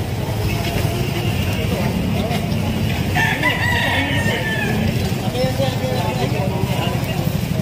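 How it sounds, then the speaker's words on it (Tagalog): Chickens and a rooster at a crowded chicken farm, with a crow rising briefly around the middle over a dense, constant background of clucking, engine rumble and people talking nearby. "May manok na naman po."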